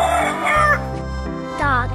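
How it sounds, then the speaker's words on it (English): Chicken making clucking and crowing-like calls, a few loud drawn-out squawks close up with no one talking over them. "Chicken."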